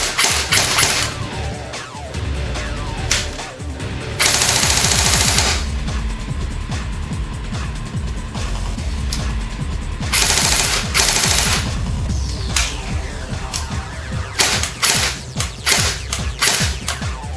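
A Well R1 Uzi airsoft gun firing on full auto, loud and close: rapid mechanical rattling bursts of varying length separated by brief pauses and clicking of the mechanism, with no talk.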